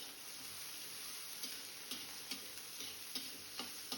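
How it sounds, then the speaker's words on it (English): Chopped onions and mustard seeds fry in oil in a kadai with a steady, close sizzling hiss, broken by small, regular pops and ticks from the crackling seeds. "Take a kadai, add oil and 1 teaspoon of mustard, 1 cup of chopped onions."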